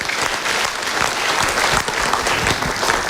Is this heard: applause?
yes